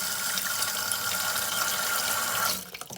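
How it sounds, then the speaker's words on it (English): Clean tap water pours steadily into a container, a loud, even rushing fill that cuts off sharply near the end, leaving brief quieter splashes and drips. "Fill it up with some clean water"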